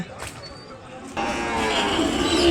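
Cattle at the Kodad market, among Ongole bulls and calves, fill a busy, steady din that grows louder halfway through, with lowing and general livestock noise up close and a possible voice faintly underneath.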